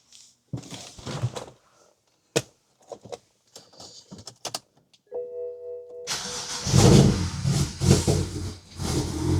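A BMW E60 with an N54 engine, just fitted with a new belt and pulleys, first gives a few scattered clicks and knocks, then cranks briefly and fires into a loud, steady idle close by.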